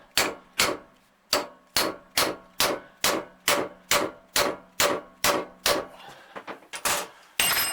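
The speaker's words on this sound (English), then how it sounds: "Take your punch and hammer, give it a few whacks." A hammer strikes a steel punch while a hydraulic ram is repaired in a vise, a dozen sharp, evenly spaced metallic whacks, close and loud, loosening into a few quicker, lighter taps at the end.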